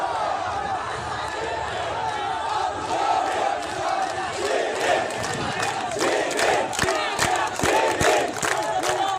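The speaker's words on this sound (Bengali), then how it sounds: "নারায়ে তাকবীর, আল্লাহু আকবার ও শিবির শিবির স্লোগানে" A large crowd of students and locals chants slogans in unison during an evening rally procession through Savar, Bangladesh. The loud, rhythmic chanting stays close and continuous, with voices shouting over a dense background roar.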